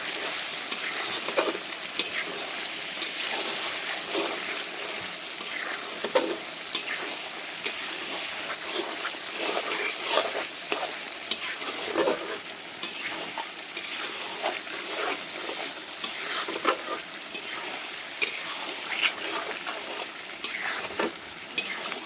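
Potatoes and kohlrabi stirred and fried with duck meat in a pan, giving a steady, close sizzle with frequent scraping stirs throughout and no talking.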